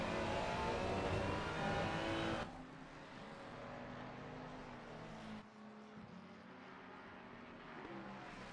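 Racing cars in a console endurance racing game at Spa-Francorchamps near Stavelot corner, with engines whining loudly at first, then a quieter, steady engine drone after a sudden cut.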